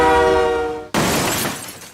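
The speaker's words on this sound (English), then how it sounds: "There's the train wreck again." Train wreck sound effect fired from a podcast mixer: a sustained horn-like blare cuts off abruptly into a loud, crashing burst of noise that slowly fades, heard alone with no talk.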